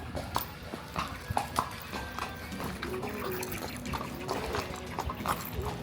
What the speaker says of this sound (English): We're on the horses.